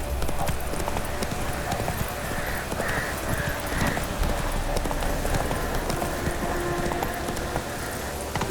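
Roach the horse trotting in The Witcher 3, rhythmic hoofbeats clopping steadily up close over a bed of in-game ambience, with a faint whinny-like tone in the middle.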